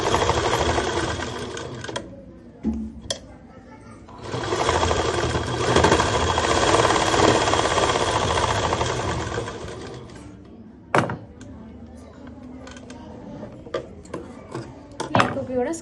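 A sewing machine double-stitches around the armhole of a school skirt in two long bursts of steady, fast mechanical whirring, with short pauses and a few brief clicks between runs, close and fairly loud.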